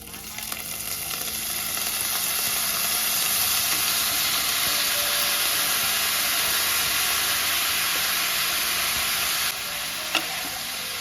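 Carnitas chunks hit hot oil in a pan and sizzle loudly and continuously up close, a dense steady hiss with a small clatter near the end.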